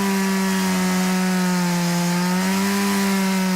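A Stihl MS-170 chainsaw engine runs at a steady, even pitch, giving a loud, continuous buzzing drone close by with no speech.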